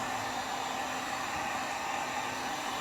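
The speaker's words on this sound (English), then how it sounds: "So you get a heat gun here. This one goes up pretty high. It's a cheap heat gun." A cheap Harbor Freight heat gun blows hot air in a steady, loud, hissing whoosh that runs close and unbroken, with no talk over it.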